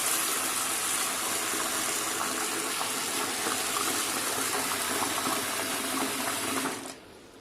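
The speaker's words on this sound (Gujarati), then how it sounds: "હાથની મદદથી થોડું એને આ રીતે પ્રેસ કરી અને આપણે બધા સાબુદાણાને સારી રીતે ધોઈ દઈશું" Soaked sago pearls are washed by hand in water, a steady close sloshing and swishing that stops abruptly near the end.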